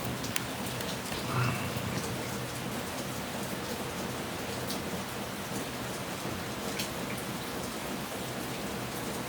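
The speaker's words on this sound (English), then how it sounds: "It's been raining pretty hard." Heavy rain pouring steadily, a dense continuous hiss of drops on surfaces with scattered louder splats, constant and close, with no voices.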